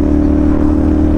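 CFMOTO NK450 motorcycle fitted with an Orion exhaust, revving close by with a loud, continuous, throaty engine drone across a short burst.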